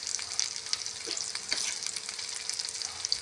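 Fish frying in coconut oil gives a steady, hissing sizzle throughout, with a couple of faint taps and no voices.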